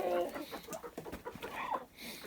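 Chickens clucking near a nest, a Minorca hen and a rooster among them, giving short, close clucks and a few higher calls in a quick, irregular string at low volume.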